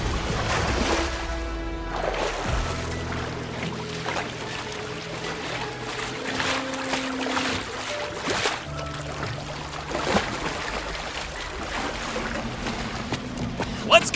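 Rushing flood water surges through a wrecked train in a video game, a continuous watery roar under tonal game music, with occasional splashes and creaks and voices talking over it.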